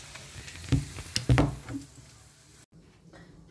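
Spinach sautéing in a little oil in a pan, a soft steady sizzle broken by a few louder stirring scrapes and bursts near the start, then quieter frying before a brief cut.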